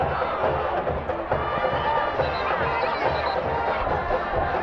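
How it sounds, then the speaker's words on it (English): At a high school football game between Enumclaw and White River, the student section cheers loudly while the band plays, a dense continuous roar of crowd noise and music with no pauses. "The band in the student section cheer and play away."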